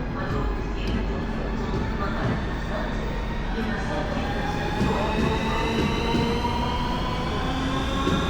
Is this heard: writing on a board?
no